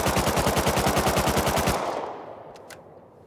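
Automatic gunfire in the Rust video game, shooting out a tool cupboard: a rapid, loud burst of evenly spaced shots lasting under two seconds, then a fading echo tail and a couple of faint clicks.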